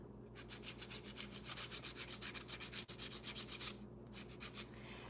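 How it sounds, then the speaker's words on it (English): Soft, rhythmic rubbing strokes of fine sanding on small polymer clay eyeballs, a steady back-and-forth scratch repeated many times with one brief pause near the end. "we are just sanding, gently sanding the eyeballs that I fashioned"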